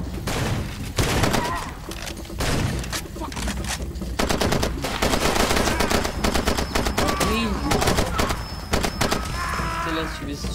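Sustained automatic and single-shot gunfire in Far Cry 2, loud bursts of rapid rattling shots overlapping almost continuously, with voices heard at times among the shooting.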